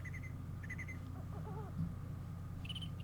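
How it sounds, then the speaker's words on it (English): Owl hooting in King's Quest IV, soft repeated hoots over a low ambient game drone, with faint chirps and high squeaks scattered around them. "I hear an owl."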